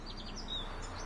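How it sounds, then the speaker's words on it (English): Birds sing in the Witcher 3 video game, with a few faint, high chirps and tweets scattered over a steady outdoor ambience. "The birds singing, the bees buzzing."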